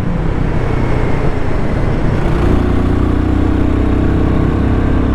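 A Royal Enfield Guerrilla 450 motorcycle engine roars loud and close, a dense rumbling drone with rushing wind noise that shifts and firms up halfway through as it pulls harder.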